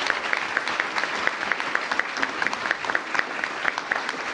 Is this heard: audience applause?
yes